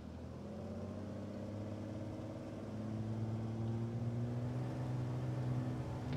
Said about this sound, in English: It even sounds like a turbo.